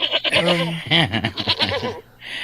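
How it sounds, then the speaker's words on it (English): Goats bleat in short wavering cries, close and loud, crowded together over about two seconds with a brief pause near the end. "We don't really know whose goats these are."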